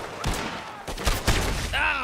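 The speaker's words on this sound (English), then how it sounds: "Pesto, get out of my line of fire" Several gunshots in the Western video game Red Dead Redemption 2, a few sharp bangs close together over a noisy background, ending with a rising whistling sound.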